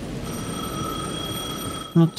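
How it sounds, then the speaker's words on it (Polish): A payphone rings in the video game Alan Wake 2, a thin steady ring held through the whole stretch over dim ambient rumble, with a brief louder thud at the very end. "The payphone at the edge of the plaza was ringing again."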